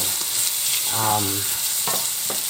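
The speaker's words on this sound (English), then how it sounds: "when it fries in these, you can see the onions turning color already" Chorizo sausage with onions, paprika and peppers frying in a pan over medium heat, a steady soft sizzle with a short tonal scrape or stir in the middle and light clatter toward the end.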